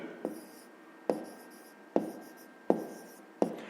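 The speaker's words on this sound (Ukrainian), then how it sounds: "Записуємо." Pen scratching on paper while working a grade 5 maths exercise, laid down as five separate crisp strokes with a short tap and scrape each, evenly spaced and close up, with no talking.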